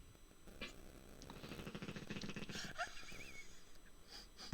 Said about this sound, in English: if anybody can hear the pit bull snoring in the background